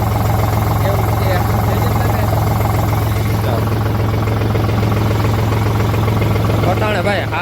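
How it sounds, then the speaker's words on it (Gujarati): A tractor engine runs steadily in a village setting, a loud, close, continuous low drone with a constant mechanical vibration and no breaks across the whole stretch. "ટ્રેક્ટરનો અવાજ વધારે આવતો છે મિત્રો"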